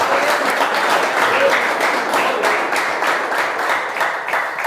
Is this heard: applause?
yes